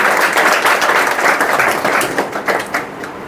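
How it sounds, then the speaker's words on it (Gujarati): An audience at a motivational speech applauds, with steady, dense clapping that carries on for a few seconds at a fairly loud level and fades only a little toward the end. "તમારા પોતાની જાત માટે એક વખત તાળીઓનો ગડગડાટ થઈ જાય"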